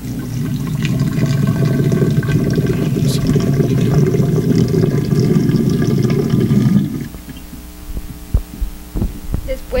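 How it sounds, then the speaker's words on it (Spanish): Water is poured into a container for a school physics experiment, a steady low gurgling rush lasting several seconds, then stopping, followed by a few light knocks. "Ahora agregaremos el agua."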